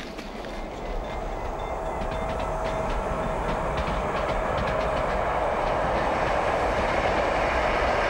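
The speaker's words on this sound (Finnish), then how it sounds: "Intercity-juna Ouluun lähtee raiteelta 6." An Intercity train bound for Oulu rumbles at a station platform, a loud, continuous rolling roar with rhythmic clacking of wheels that builds steadily as it moves, heard alone without talk.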